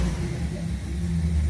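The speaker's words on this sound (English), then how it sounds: "Truck sounds pretty good." Truck engine with a newly installed Quadrajet carburetor and raised idle, rumbling steadily up close with a low, even drone and slight swells of throttle throughout.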